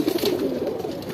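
Pigeons kept for sale in Tongi, Gazipur coo nearby: a soft, continuous, throaty rolling coo with no talk over it.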